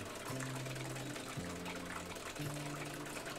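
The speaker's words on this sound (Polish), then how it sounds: "ekspres jest pod prądem, on się odpowietrza" An espresso machine pump bleeding air after a heating element replacement drones steadily, with tonal pitches that step and shift every second or so over a constant rushing background.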